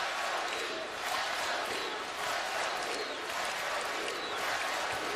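Basketball arena crowd at a Duke versus Utah game, a dense continuous roar of cheering and applause filling the space, steady and loud throughout.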